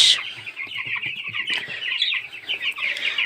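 Chickens in a home poultry coop cluck and chirp continuously, a busy close flock with overlapping soft calls and high peeps, no talking.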